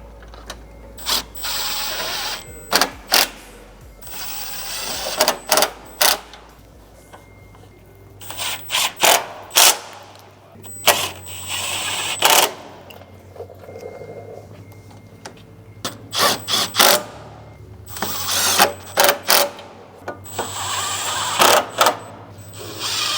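A ratchet wrench clicks in quick bursts on the crash bar bolts of a Porsche Cayenne, close and sharp, with short pauses between each run of rapid ratcheting.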